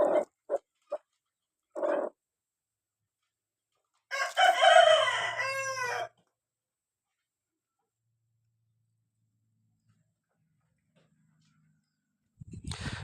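Backyard poultry with hens giving a few short clucks, then a rooster crowing loudly and close for about two seconds amid quiet gaps, with another brief burst of clucking near the end.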